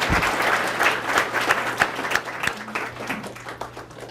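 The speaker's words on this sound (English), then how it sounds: "So a round of applause for all of my support staff." Audience applause at a Senior Olympics awards ceremony, a roomful of people clapping steadily for the support staff, with a few sharper individual claps standing out near the front and a faint low hum underneath.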